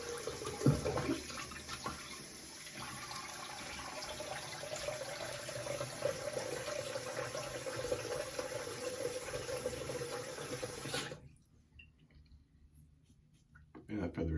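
Water runs steadily from a sink tap as a face is rinsed after shaving, a continuous close hiss lasting about eleven seconds before cutting off into near silence, with a brief knock near the start.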